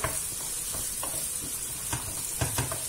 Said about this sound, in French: Je mélange un peu et après, je rajoute une autre cuillère.